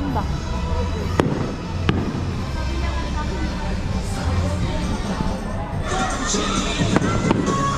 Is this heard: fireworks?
yes